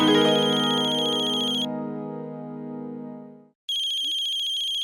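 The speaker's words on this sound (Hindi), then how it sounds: "अक्षरा का फोन। देख लो।" A mobile phone ringtone rings loud and close in a Hindi family drama, a bright repeating electronic melody that pauses briefly, then starts again, with no talking over it.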